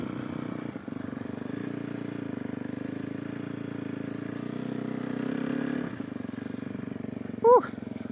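An enduro motorcycle on spiked tires riding through snow, its engine droning steadily and fairly close for several seconds with a brief rev near the end.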